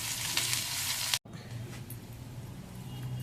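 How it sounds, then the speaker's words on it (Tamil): Grated coconut sautéing in a hot pan for gatti chutney, a steady bright sizzle with light stirring scrapes, briefly cut off by a short silent gap before the frying resumes at a slightly lower level. "அந்த தேங்காவை போட்டு ஒரு வதக்கிட்டு"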